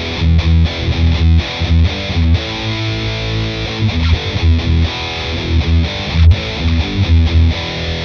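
Heavily distorted electric guitar through a stock Boss MT-2 Metal Zone pedal with neutral EQ, thick, saturated high-gain tone, chugging chords and sustained notes played continuously and loud.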